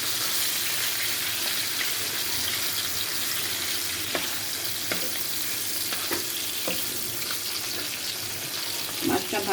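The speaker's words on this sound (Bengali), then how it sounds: "কই মাছটা এখন ভাজা বসাই দিচ্ছি" Koi fish frying in hot oil for a fish curry with aubergine and potato, a loud, even sizzle up close with a few sharp crackles and spits.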